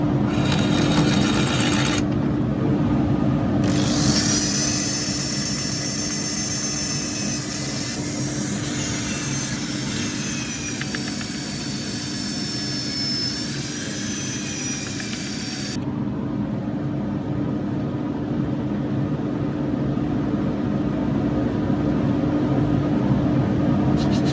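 A steady, droning power sanding arbor runs continuously at close range on an oak burl, its whine shifting slightly as pressure changes, then dropping off toward the end.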